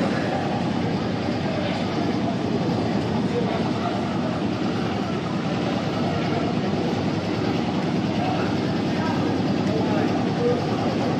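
An AC local train from Sealdah to Ranaghat runs at full speed of about 110 km/h, a dense continuous roar and rumble heard from inside the carriage, steady and loud throughout with no distinct breaks.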